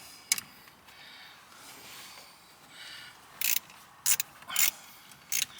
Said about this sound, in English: Come on, ratchet, cooperate.